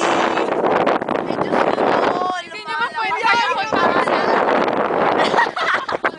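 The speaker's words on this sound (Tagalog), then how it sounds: "Kuya, lumalakas yung hangin." Strong wind roars and buffets the microphone almost continuously while people talk over it.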